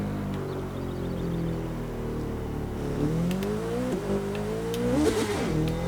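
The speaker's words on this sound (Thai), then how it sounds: "เปิดคันเร่งทีแบบพุ่งเลยอะ" A carbon-bodied Honda CBR1000RR SP superbike in the racing game The Crew 2 drones at high revs during a wheelie, its steady engine tone climbing and wavering as the throttle opens, loud and continuous.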